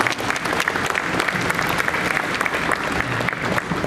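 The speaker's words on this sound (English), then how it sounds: "Let's welcome our dignitaries on the dais with a huge round of applause," Audience at the 1st International Environment and Sustainability Summit in Goa gives a steady, dense round of applause welcoming dignitaries on the dais, sustained clapping throughout with no talk over it.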